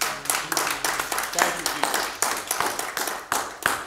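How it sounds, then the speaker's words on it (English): A church congregation claps its hands in a steady, rhythmic beat during a Sunday service, the dense claps close and lively, with a voice calling out briefly over them. "Give the Lord a hand clap this morning."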